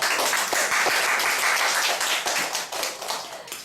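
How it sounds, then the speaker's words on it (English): Applause from a classroom audience for a student who answered well in an English lesson, a dense steady clapping that fills the room, then thins and tapers toward the end. "Big applause,"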